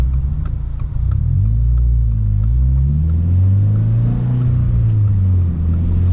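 A 2022 Subaru BRZ with a catback exhaust pulls hard on a freeway, a loud, continuous low engine drone rising in pitch as it accelerates, heard from inside the car with no talking.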